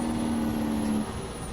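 A Jake brake on a truck in American Truck Simulator gives a steady, rumbling drone with a low hum that cuts out after about a second, leaving a quieter road roar.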